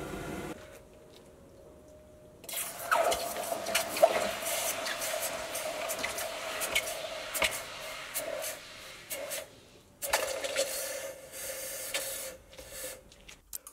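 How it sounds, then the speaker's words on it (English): A hot steel part is quenched in a water-filled pipe, giving a broadband hissing sizzle that starts abruptly after a quiet moment, holds steady, dips briefly, then flares again in a second burst. "I'll then quench it in a pipe filled with water"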